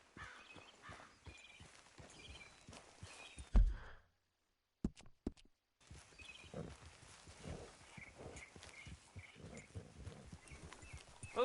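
Horse hooves clip-clop steadily while riding in the Red Dead video game, a rhythmic walking beat under game ambience, with a brief silent gap partway through before the hoofbeats resume.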